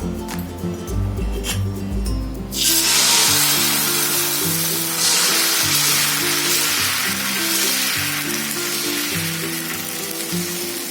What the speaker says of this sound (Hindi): थोड़ी पानी हम डालेंगे ताकि ये ठंडी हो जाए।